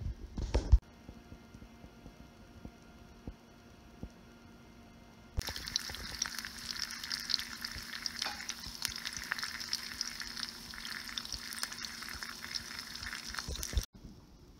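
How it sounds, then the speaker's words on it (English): Rainbow trout fries in hot oil, a quiet crackle that jumps to a dense, steady, close sizzle when the fish goes in, then cuts off abruptly. "I'm gonna wait till the oil is a little bit sizzling. That's gonna be perfect to toss it in."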